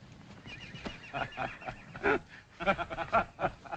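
A bucking bronc horse whinnies in a few shrill, quavering bursts, the loudest coming near the end against a quiet, muffled background.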